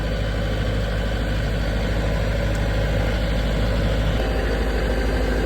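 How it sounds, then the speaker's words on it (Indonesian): A 40 kVA diesel generator set runs steadily under light electrical load, giving a loud, continuous low engine drone with a constant idle-like hum and no variation or talk. "Nanti kita cek bareng-bareng ya untuk parameter pada saat genset ini mendapatkan beban."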